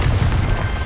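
A Confringo blasting spell explodes in Hogwarts Legacy: a short, loud, rumbling boom with a crashing low-end thud sustained throughout.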